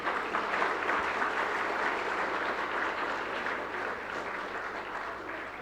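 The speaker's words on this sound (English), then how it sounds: "I think a huge round of applause again." Audience at an awards ceremony in Bangalore applauds loudly and steadily, a dense wash of many hands clapping that holds for several seconds and fades slightly toward the end.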